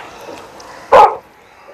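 A dog in the Minecraft video game lets out a single sharp bark, loud and close, over faint background game noise.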